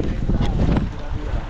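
A boat pitching hard in rough open sea, with heavy low water slaps against the hull and steady wind buffeting throughout, loud and close.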